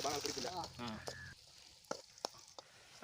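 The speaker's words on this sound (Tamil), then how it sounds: "வெங்காயம் நல்லா வதக்கி விட்டுக்கலாம்." Onions sizzle and crackle in a pan for a snail fry, with a brief voice at the start followed by faint frying and a few sharp stirring clicks.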